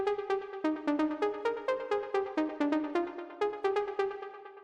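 A bright, plucky synth lead, playing a jumpy, bouncing pattern of short staccato notes at a steady tempo, clear and upfront with no voices.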